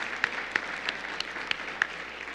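A small room's audience gives applause for neighborhood officers at a mayor's panel: a thin, scattered patter of claps with a few distinct louder hand claps, modest and fairly distant.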